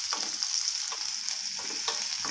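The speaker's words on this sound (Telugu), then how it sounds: "ఇవి కొంచెం వేగనివ్వాలి." Chopped onions and curry leaves fry in hot oil for a Telugu capsicum-tomato curry, with a steady loud sizzle and a few soft stirring scrapes, close and without talk.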